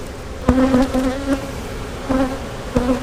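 A honeybee colony in an opened hive gives off a close, continuous buzzing roar, with a few single bees droning past loudly and then fading.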